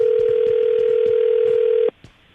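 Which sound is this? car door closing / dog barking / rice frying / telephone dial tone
telephone dial tone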